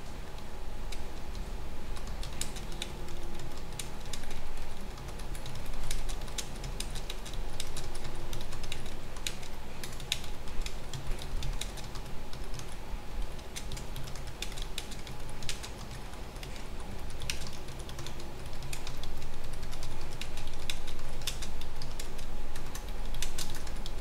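Rapid, irregular clicking of keys on a computer keyboard runs steadily for over twenty seconds, close and fairly soft, with no one speaking.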